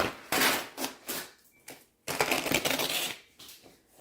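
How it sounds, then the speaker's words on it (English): Rip-away appliqué stabilizer being torn off embroidery on a denim jacket, heard as several close, crisp tearing rips in short bursts separated by pauses. "we are going to now rip this away"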